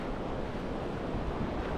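Ocean water surging through a 10–20 meter deep reef pass in the Tuamotus, French Polynesia, a steady broadband wash of moving water with a wind-like rush, continuous and close, with no voices.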